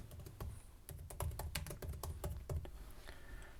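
Quick, light tapping on a computer keyboard, a brief burst of close, irregular key clicks with short pauses between keystrokes, quiet and alone.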